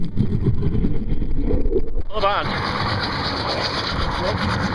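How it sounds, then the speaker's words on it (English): A boat engine's exhaust rumbles steadily out on the water during a fishing trip, heard under wind buffeting and a man's brief speech before the sound opens up into a broader wash of engine and wind. "That exhaust is wonderful."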